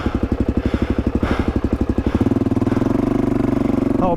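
Motorcycle engine idling with a steady, rapid thumping pulse, loud and close, on a Blue Mountains riding loop near Sydney; the beat quickens and smooths partway through before settling.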